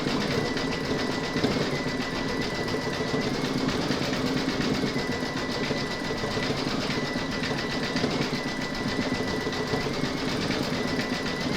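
An embroidery machine stitches decorative thread along a seam line on a crazy patch mug rug, a steady, loud mechanical whirr with fast regular needle clatter and faint periodic shifts throughout.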